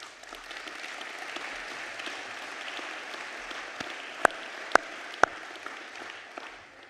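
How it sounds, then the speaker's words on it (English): An audience at a WorldSkills leaders forum applauding, a fairly quiet, even wash of many hands clapping together, with three sharp knocks standing out near the end. "A big applause for them."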